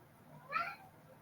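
A single cat meows once, a short rising-falling cry at moderate distance over quiet room background.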